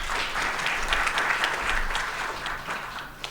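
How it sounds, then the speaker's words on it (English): An audience claps at the SANBio annual event, with steady, even applause filling the room at a moderate distance and holding throughout. "You can clap for yourselves."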